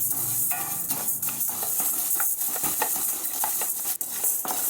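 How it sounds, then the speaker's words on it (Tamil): Half a cup of urad dal roasted slowly in a pan on low flame, with steady scraping and stirring and a soft dry hiss, a few light utensil clicks throughout. "இது ஆஃப் ஃப்ளேமில் மெதுவாக பொன்னிறமாக வறுத்து எடுக்கணும்"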